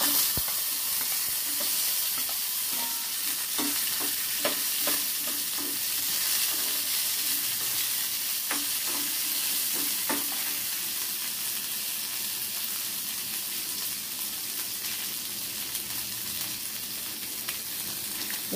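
Onions and ivy gourd fry together in a pan with a dense, even hiss of sizzling oil and a few soft stirring clicks early on, steady and close for the whole stretch without talking.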